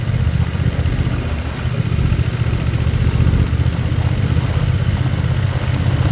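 A motorcycle engine on a potholed dirt road drones loudly and continuously up close, a rough low rumble with steady rattling vibration throughout.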